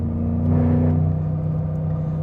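BMW Z8 coupe engine revving through the mid-range with a loud, steady low growl and harmonic drone, swelling briefly near the start and then holding a constant muscular rumble.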